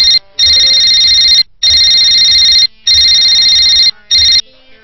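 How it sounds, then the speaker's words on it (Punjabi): A mobile phone ringtone for an incoming call, loud and close, playing in four repeated electronic bursts separated by short pauses. "ਆਉਣ ਦੇ ਸਰਪੰਚ ਦਾ ਫੋਨ"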